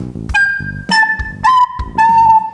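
A breathy recorder plays four short notes with heavy tonguing, a hard percussive attack on each, separated by brief gaps of breath noise.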